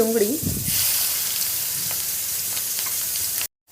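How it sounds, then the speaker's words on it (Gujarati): Onion, cumin and asafoetida crackle and spit in hot oil in a pan, a loud bright sizzle that rises sharply after a brief muted knock at the start, runs steadily, then cuts off abruptly near the end. "લોયાની અંદર તેલ નાખશું। તેલ આવી જાય પછી આપણે એની અંદર જીરું નાખશું। પછી આપણે થોડી હિંગ નાખશું। ડુંગળી નાખશું।"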